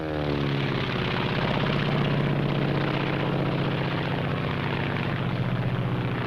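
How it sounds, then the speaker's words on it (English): Loud, continuous droning propeller engine of a Japanese Zero fighter aircraft in a 1943 wartime training film, a steady close roar with no pause. "This is the Japanese Zero."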